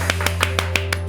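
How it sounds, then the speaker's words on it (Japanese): Thin, sparse clapping from one or two people in a Japanese studio broadcast, seven sharp, evenly spaced claps heard close over a steady low electrical hum. "薄っぺらい拍手で申し訳ございません。"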